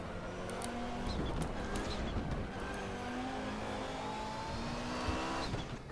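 Audi 90 Quattro IMSA GTO turbo engine in the RaceRoom racing game, a loud continuous race-car drone that rises through the gears, with turbo building and faint tire squeal.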